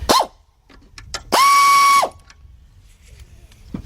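A ratchet spins off 10 millimeter nuts on a Chevy Impala alternator, with a brief click at the start and then a sustained close, loud whirring ratchet burst lasting under a second, followed by quiet.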